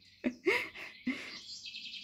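Small birds chirp outdoors on a sunny day in a few quick, separate calls, fairly faint and at a distance, with no talking over them.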